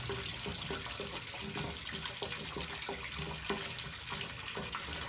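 Water drains out of a Waterair pool filter cartridge housing with a steady, faint trickling and gurgling that runs continuously without pause.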